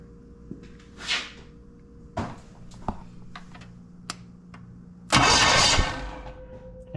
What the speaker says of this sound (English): starter's doing starter things